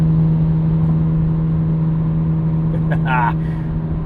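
A 1999 Nissan Skyline R34 GT-R twin-turbo engine pulls in sixth gear, a steady, even drone heard from inside the car with a voice talking over it.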